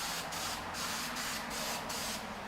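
Zinc-rich galvanizing primer hisses from an aerosol can in a series of short spray bursts, about six quick pulses with brief gaps, close and fairly quiet, with no voices.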